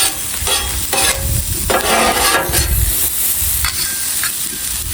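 Western omelette ingredients fry on a griddle in a loud, continuous sizzle, with repeated scraping and stirring strokes up close and no talking.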